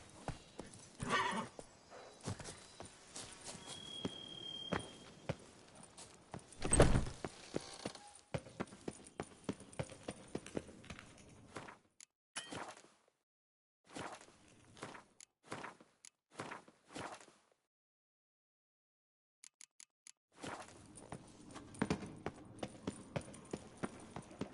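Roach, the horse in Witcher 3, moving at speed with clattering hoof beats, a whinny and some thuds, broken by short quiet gaps and resuming near the end.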